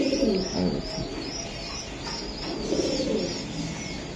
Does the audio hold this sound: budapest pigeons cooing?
yes